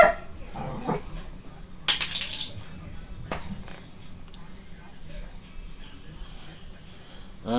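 A dog barks indoors in short, sharp bursts, with one louder bark early on, mixed with a person talking and some muffled background noise.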